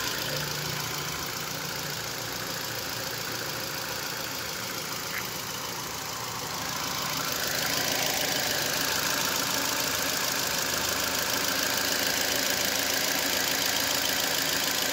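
A Ford EcoSport engine fresh from a general overhaul runs steadily with a broad, even mechanical drone, holding level and then growing slightly louder and fuller partway through, close by and without talk.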